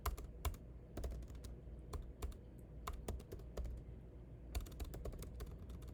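Computer keyboard typing while writing up a football match report, with bursts of sharp, close key clicks in uneven rhythm, brief pauses, and a low steady room hum underneath.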